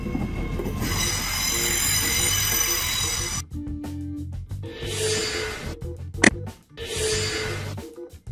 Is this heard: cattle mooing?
no